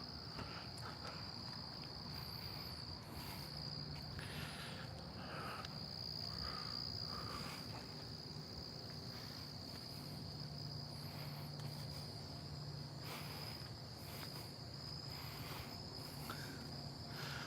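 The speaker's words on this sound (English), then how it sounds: "What bugs are making those noises?" Crickets chirping at night on a quiet back street a block off a town's main street, a faint, continuous high trill with scattered pulsing calls and no talking.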